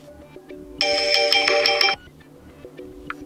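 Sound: Samsung Galaxy A3 Core phone ringtone

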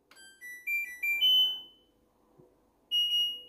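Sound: washing machine beep

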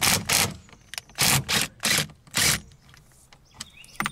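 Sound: impact wrench with 24 mm socket loosening steering wheel bolt

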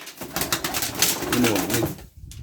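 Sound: young pigeons cooing

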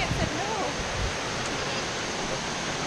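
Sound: waterfall at Tolofofo Falls, Guam

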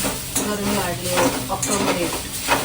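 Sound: coconut roasting and being stirred in a pan

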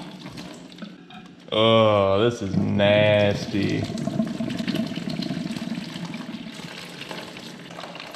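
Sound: old coolant draining from Triumph Daytona 675 motorcycle

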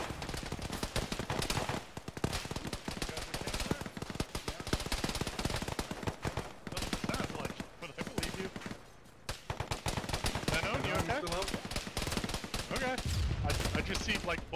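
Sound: gunfire in a military video game

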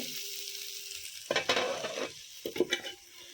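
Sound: vegetable bhaji frying in a pan

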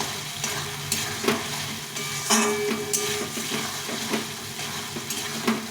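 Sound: sautéing fried potatoes with tomato spice paste in pan

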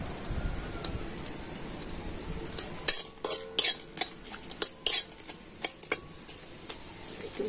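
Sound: dry roasting dried red chillies in a kadai

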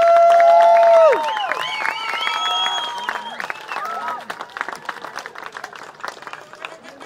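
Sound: crowd applause and cheering

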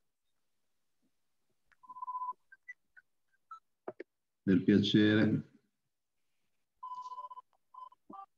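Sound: mobile phone ringing through an open microphone

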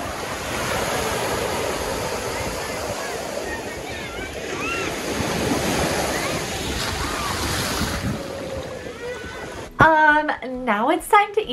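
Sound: ocean waves on the beach

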